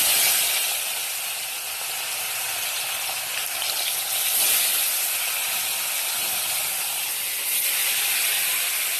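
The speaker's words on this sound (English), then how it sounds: "And then I'm going to fry my fish which I've already marinated with salt." Salt-marinated fish fries in hot oil, giving a loud, continuous close-up hiss and crackle that rises and dips slightly but never stops, with no one talking.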